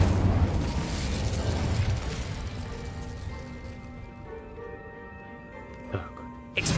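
Incendio fire spell cast in the PC game Hogwarts Legacy, a loud burst of roaring flame and crackle fading into a ringing magical tone, with a sharp pop near the end.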